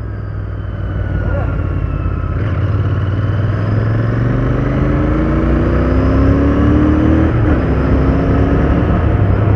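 A Royal Enfield Continental GT650 with a twin-cylinder engine revs up loud and close, its smooth note climbing steadily in pitch through the rev range before easing and rising again.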